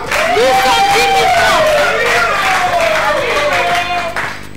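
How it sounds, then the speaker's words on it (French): A studio audience claps and cheers on a Congolese game show, loud and sustained, mixed with excited voices and crowd chatter, tapering off near the end. "On applaudit encore, s'il vous plaît."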